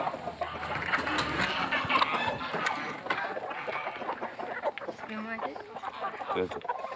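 Broody hens cluck and murmur close by in a small group, with rustling movement and a person's voice briefly mixed in.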